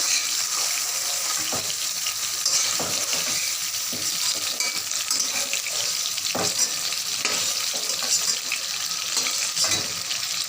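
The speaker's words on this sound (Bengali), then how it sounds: "জাস্ট একটু নেড়ে নিই পেঁপেটা" Continuous loud sizzle of papaya frying, with repeated scraping and clinking of a spatula stirring in a pan, close up.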